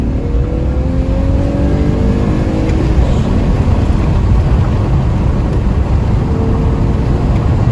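A Peugeot 205 coupé drives on the road, its engine droning loud and close with rising pitch as it revs and pulls, steady and continuous without any voices.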